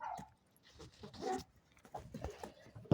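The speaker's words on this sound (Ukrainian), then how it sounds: "Ой, побігли вже, вже гавкотять." Dogs bark and yelp in a rural yard where hens are kept, with short irregular calls at a moderate distance mixed with outdoor rustling.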